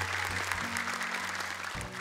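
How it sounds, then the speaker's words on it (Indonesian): An audience at a televised Qur'an arithmetic quiz show applauds in a brief, steady burst of clapping, with a sustained musical tone underneath that changes pitch. "Boleh tepuk tangan sekali lagi untuk mereka."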